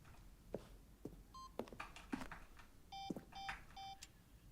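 Electronic beeps in The Stanley Parable Ultra Deluxe: several short, clean tones sound at irregular intervals, quiet, with a few soft clicks and thumps between them.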